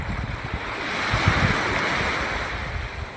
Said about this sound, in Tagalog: Ito pala yung dagat na sinasabi.